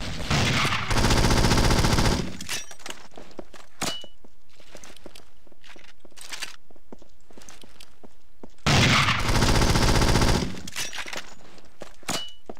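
Gunfire in a competitive video game scrim: two dense bursts of rapid automatic shots, each about two seconds long and separated by a stretch of scattered clanks, footsteps and small impacts.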